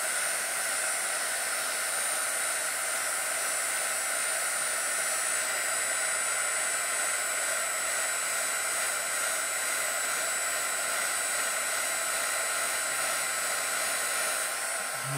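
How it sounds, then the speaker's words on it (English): A heat gun blows a steady, loud broadband hiss for the whole span while heating the wifi chip of an iPhone, with no talking over it. "I'm gonna heat gun it for a few minutes."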